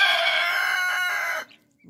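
Young guinea fowl keets call inside a coop, a loud, shrill, steady chorus of close chirping that runs for over a second and then cuts off abruptly.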